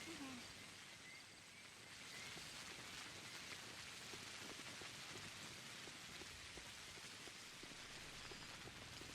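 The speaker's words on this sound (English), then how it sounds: "I like the rain sound effects." Steady rain from the video game Pathologic patters on a surface throughout, a dense even hiss of drops with no break.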